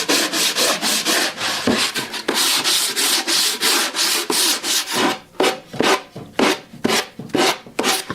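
Wood sanded by hand with a sanding belt mounted on a block, rhythmic rasping strokes in quick back-and-forth succession, loud and close, becoming more clipped and separated toward the end.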